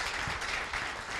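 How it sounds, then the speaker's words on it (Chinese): An audience at a Team Elite event breaks into applause, a brief, dense burst of many hands clapping that fills the room evenly from start to end. "真的必须要给波爹一个掌声"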